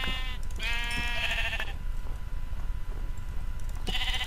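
Sheep bleating in the Minecraft video game, set in a snowy biome: two or three close, clear wavering bleats in quick succession, then a pause and another bleat at the end, over a low game background.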